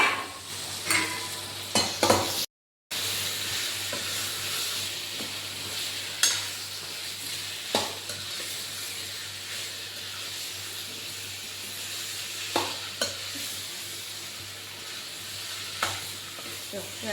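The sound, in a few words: potatoes frying with garlic chutney in a pan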